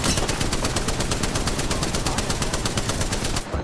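Rapid, sustained bursts of Triple Take rifle fire in the video game Apex Legends, loud and close, with a steady rhythm of repeated shots running almost the whole way through before cutting off near the end.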